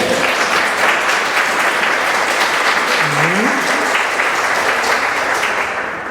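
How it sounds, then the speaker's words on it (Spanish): A church congregation gives a strong, sustained round of applause that fills the room evenly for about six seconds, and a voice briefly speaks over it partway through. "Denle un fuerte aplauso al Espíritu Santo de Dios."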